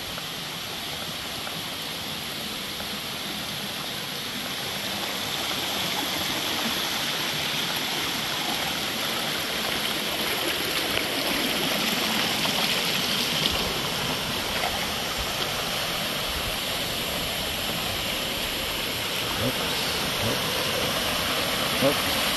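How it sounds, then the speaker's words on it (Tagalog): Baul Falls gives off a steady, broadband rush of falling water that holds loud and continuous throughout and swells slightly after the first few seconds. "Ito na kami sa Baul Falls."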